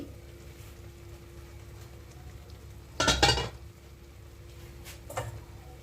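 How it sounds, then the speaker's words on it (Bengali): A lid comes off a kadai (wok) of boiled broccoli with a sharp metallic clatter partway through, then a fainter clink follows in an otherwise quiet kitchen. "কড়াইয়ের ঢাকনা খুলছি।"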